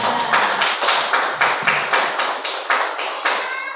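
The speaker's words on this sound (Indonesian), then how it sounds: "berikan dulu aplaus kepada Ibu" An audience applauds a speaker at a school gathering in a series of rhythmic, evenly spaced clap bursts, loud and close.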